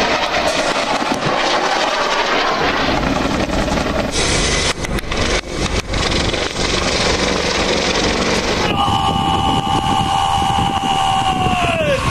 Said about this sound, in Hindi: मुजफ्फरगढ़ में Z10ME हेलीकॉप्टर्स के जरिए फायर पावर का मुजाहरा देखा